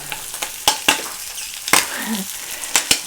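Butter melting and bubbling in a hot pan while cooking eggs Benedict, crackling in a steady sizzle broken by sharp spits and pops, close up, with no talk.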